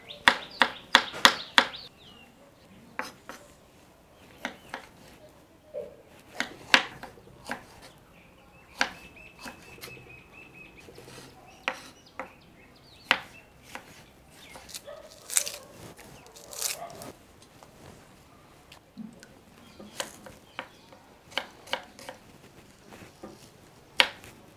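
A knife chops cabbage on a cutting board while preparing cabbage Manchurian: sharp, close, irregular cuts and taps scattered across a quiet kitchen background.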